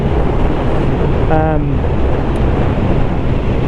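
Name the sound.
wind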